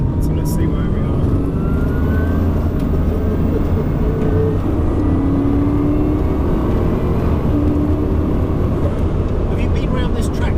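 From onboard, a Bugatti Chiron Pur Sport accelerates down a racetrack's main straight, a loud, steady roar of engine and rushing wind filling the whole stretch with only faint tonal shifts.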